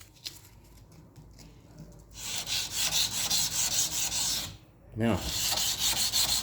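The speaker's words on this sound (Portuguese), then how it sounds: "a minha lixa de ferro aqui, ó, grão 220, e vou tirar os riscos" Hand sanding a steel dagger blade with 220-grit sandpaper: quiet handling at first, then sustained raspy back-and-forth scraping strokes, a short pause, and more rubbing, close by; someone speaks briefly.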